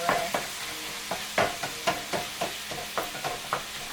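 Ground meat for lasagna sizzles in a pan while a spatula repeatedly chops and stirs it, producing sharp rhythmic scrapes and taps about twice a second over a continuous close fry, with no talking.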